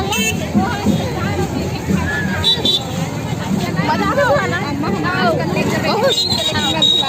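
Dense crowd babble surrounds a Rath Yatra procession, many voices murmuring and calling close by in a steady hubbub, with a nearby speaker talking over it.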